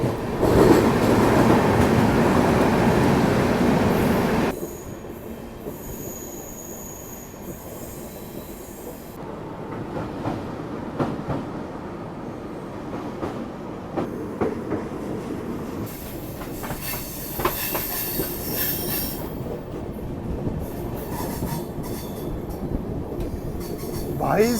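Mumbai–Delhi CR Rajdhani Express running at 130 km/h through a storm: loud rushing wheel and wind roar with squealing and clickety-clack, softening after a few seconds to a steady rumble with rattles.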